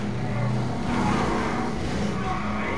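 In the zombie game Dead Rising 3, a car drives hard with a continuous engine roar and tyres skidding and scraping across the road, loud and close throughout.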